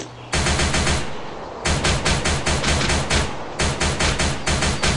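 Loud, close automatic gunfire in the zombie-escape mobile game Escape Countdown 24 Hours, a sustained rapid rattle broken by brief pauses into several long bursts, with no speech over it.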